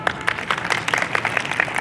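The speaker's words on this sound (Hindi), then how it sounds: "आप ताली बजा सकते हैं" Audience clapping in a school hall at an Olympiad results and prize-giving ceremony, honouring a girl's CPMT rank; steady mid-level applause with individual claps standing out across the short span.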